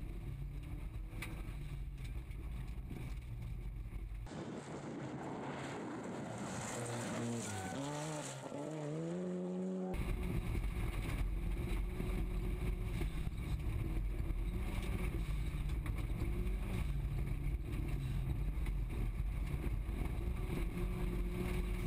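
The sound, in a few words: Volkswagen Golf rally car at full attack, onboard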